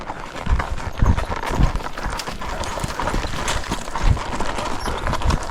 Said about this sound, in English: Whoa, control that horsey of yours, Kate.